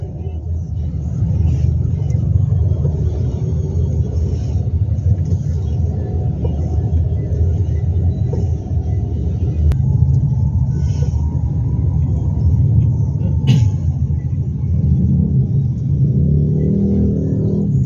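Congested road traffic of cars and motorcycles rumbles continuously nearby, with low engine drone, passing vehicles and occasional revving and clicks sustained throughout.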